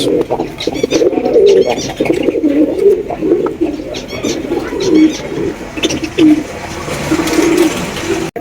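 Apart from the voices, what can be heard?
pigeons cooing at a pigeon market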